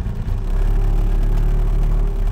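The small engine of a Messerschmitt KR200 three-wheeler pulling away, a steady loud low drone with a buzzing mid-range note, held close and continuous, with no talk.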